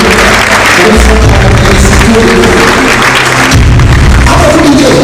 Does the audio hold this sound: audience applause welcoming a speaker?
yes